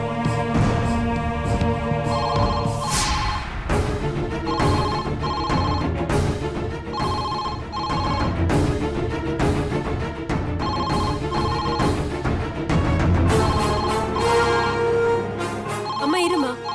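A telephone ringtone repeats in steady bursts through a Tamil TV serial scene, loud and continuous, with a low voice now and then beneath it.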